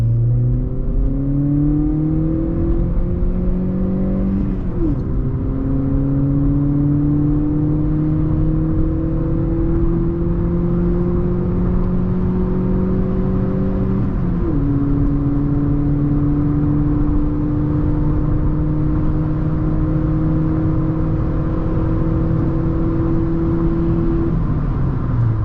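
A Volkswagen Polo GTI lookalike accelerates hard on a hot Dutch road, its engine note rising steadily through each gear with two clear shift dips, loud and continuous from inside the car with no talk.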